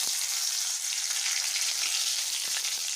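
Tomatoes go into a hot oil tempering with curry leaves for Bihari kach ka sabji and sizzle loudly and steadily, a dense, continuous frying hiss with a few faint stirring taps.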